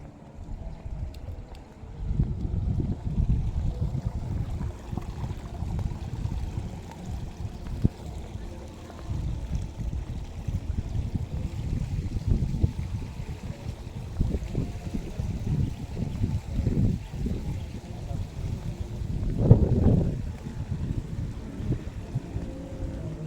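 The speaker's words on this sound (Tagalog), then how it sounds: "Kaya mahangin kasi dito kami sa taas." Gusty wind buffets the microphone in the Sarangani Highlands, rising and falling in rough low-pitched bursts over a long stretch, with occasional voices in the background.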